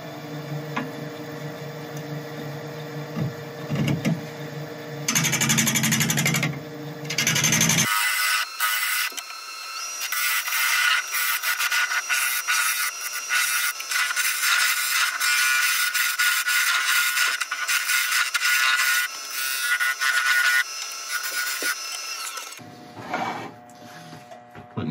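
Woodturning lathe cutting a wooden base: harsh, loud scraping bursts of tool on spinning wood, with a long continuous cut in the middle and a quieter machine hum before and after.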